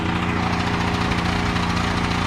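On a house demolition site, a small engine runs on choke with a steady, loud, buzzing drone that holds an even pitch and never varies.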